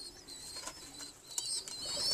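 Pigeons coo faintly in a loft while feeding their young, soft low calls mixed with squeaky chirps from the squabs, close by and quiet.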